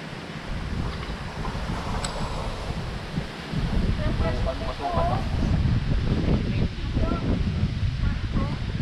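Strong wind blows steadily outdoors, rumbling as buffeting noise against the microphone, with people talking over it partway through.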